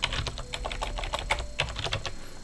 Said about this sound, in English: and then typing a dollar sign.